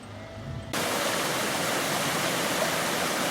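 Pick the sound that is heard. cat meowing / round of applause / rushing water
rushing water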